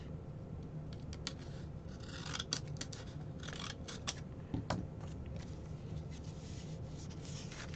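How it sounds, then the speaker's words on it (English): Scissors snip and cut through material in a quick run of sharp, close, crisp clicks and rasping strokes, mostly alone with faint background noise. "We're going to cut that off."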